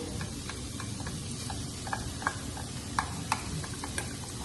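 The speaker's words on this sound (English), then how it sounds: "So now we're going to get this tofu all nice and scrambled" Tofu scrambling in coconut oil in a pan over high heat, a steady low sizzle with scattered light clicks and scrapes of stirring, close and fairly quiet, no talk.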